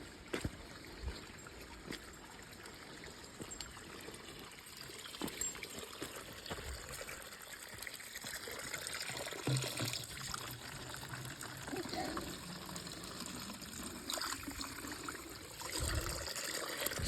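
Water trickling from a pipe at a trail water source in the mountains, a quiet, steady dribble heard alone with soft outdoor ambience and no talking.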